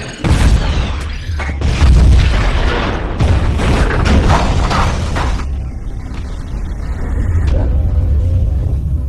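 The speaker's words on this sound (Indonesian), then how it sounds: "Norman pergi sambil melemparkan bom labu ke arah May, tetapi berhasil ditangkis oleh Peter" A pumpkin bomb blasts in a Spider-Man: No Way Home film scene, a loud, heavy boom with rumbling debris and mechanical clatter that carries on for several seconds before fading into a quieter tail.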